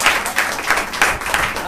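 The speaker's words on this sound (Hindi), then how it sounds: "जोरदार ताली हो जाए प्रभु यीशु मसीह के लिए।" A congregation at a women's church meeting claps loudly for Jesus Christ, a dense, steady burst of many hands with rhythmic pulses, close and filling the room.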